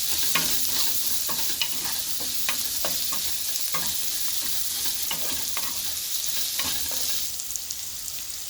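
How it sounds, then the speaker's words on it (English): Onions sautéing in a pan for a vegetable stir fry, giving a steady close sizzle with frequent light scrapes and clicks of a spatula stirring throughout, no talking. "I'm just going to saute my onions for at least 1 minute before I throw in the other vegetables"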